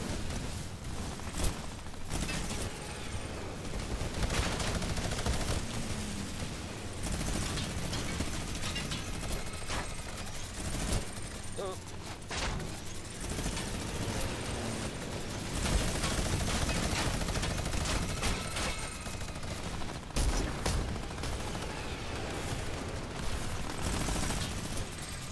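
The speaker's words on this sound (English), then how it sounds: "Everybody's shooting at us." Battle royale video game combat with many players firing from all sides produces a dense, continuous barrage of overlapping gunshots and bursts. The clatter is loud and unbroken throughout, with mechanical clanks mixed in.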